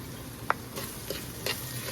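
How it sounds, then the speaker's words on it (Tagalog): Brown sugar melting in a hot pot is stirred with a spoon, giving a faint sizzle with a few soft scraping strokes and one sharp clink of utensil against the pot. "pwede na natin tunawin yung ating brown sugar"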